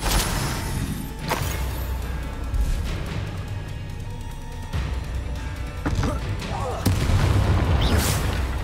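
Bombarda spell explosions in Hogwarts Legacy go off as several loud booming blasts with crashing impacts over a dense, rumbling game soundscape, with a voice speaking between the hits.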